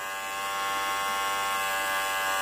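An electric hair trimmer buzzes steadily and close up while cutting hair during a self-administered taper fade, its tonal hum holding constant throughout.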